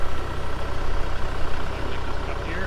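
A tractor engine runs at a sawmill site, holding a steady, loud low rumble at idle throughout with no pauses or talk.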